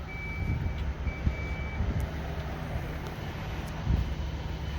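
Power liftgate on a 2021 Jeep Grand Cherokee L sounding a steady high warning beep in short repeated bursts over wind and outdoor noise.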